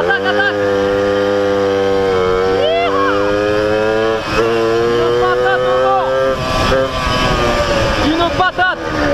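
Tomos or Peugeot moped engine revving hard with a slipping clutch as it pulls into second gear, a loud, close, buzzing whine that rises and falls in pitch and runs continuously throughout.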